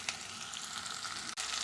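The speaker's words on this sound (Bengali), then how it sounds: "পেঁয়াজটা অল্প ভাজা ভাজা হয়ে এসে এখন দিচ্ছি আলু," Potatoes hit hot oil with lightly fried onions, giving a steady, close sizzle for the whole span, with one brief dip near the end. No one talks.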